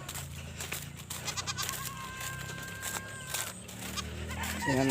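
Goats in a pen bleat repeatedly over a busy background of clucking chickens, the wavering bleats near and moderately loud, with farmyard clatter throughout.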